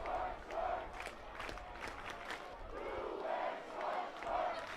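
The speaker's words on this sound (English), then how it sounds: "Listen to this crowd." A baseball crowd at an IBL playoff game between the Welland Jackfish and Barrie Baycats roars and cheers in rising, falling waves, a broad wash of many voices heard from a broadcast position at a distance.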